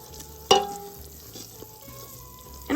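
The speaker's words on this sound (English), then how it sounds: "we're just gonna cook this flour up so we don't have a raw floury taste to it" Flour cooking in a pot of clam chowder base gives a low, steady sizzle with soft stirring scrapes, plus a sharp clank near the start and another near the end.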